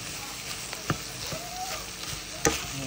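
Garlic and onion frying in a pan, a steady close sizzle with a few sharp pops and stirring clatters, a faint voice briefly in the background.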